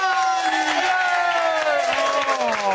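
A studio audience cheers and whoops for a TV dance talk show, the crowd noise loud and continuous beneath a sustained musical tone.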